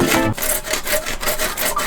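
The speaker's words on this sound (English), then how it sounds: "The next thing that I did is went ahead and cut all of my PVC pipes." Hand saw cutting through PVC pipe, a steady run of rough back-and-forth rasping strokes, close and loud, with no talking.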